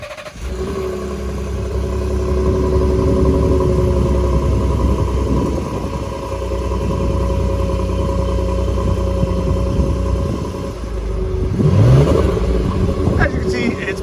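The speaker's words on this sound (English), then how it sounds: "Here's a cold start with the stock exhaust system." Engine of a 2018 Ford F150 turbo truck on a cold start through the stock exhaust, a steady close rumble that rises and dips in idle level, with someone talking over it.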